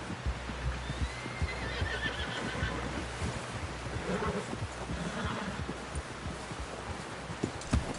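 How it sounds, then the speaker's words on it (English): A horse whinnies amid clopping hooves and rushing wind, with a steady rumble beneath; no one speaks. "Someone help John down off this horse."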